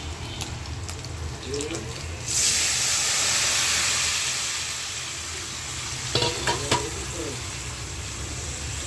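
Vegetables drop into a hot pan of fried prawns and ginger, bursting into a loud steamy hiss that gradually settles. Clattering stirs follow, with faint voices in the background.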